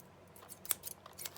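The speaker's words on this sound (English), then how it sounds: "So we'll just cut that off with scissors that don't want to cut anything." Scissors snip through vintage wallpaper in a few quiet, close, crisp cuts and rustles over about a second.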